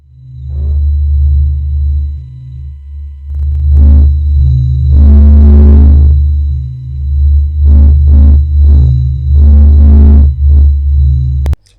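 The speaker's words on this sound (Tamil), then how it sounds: "சூரியன்ல இருந்து வர சவுண்ட் எப்படி இருக்குன்னா ஏதோ ஒன்று ஹீட் ஆகுற மாதிரி இருக்கு" Sonified radio emissions of the Sun: loud, deep throbbing rumble with swelling bursts of hissing, roaring texture that rise and fall several times before cutting off abruptly.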